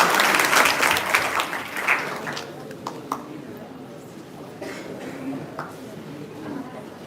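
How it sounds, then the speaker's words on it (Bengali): Audience applause at a district council cheque distribution ceremony in Jamalpur, loudest at the start then thinning to scattered claps, with voices talking over it. "আমরা সবাই করতালি দিব সবাই সবার জন্য করতালি দিব"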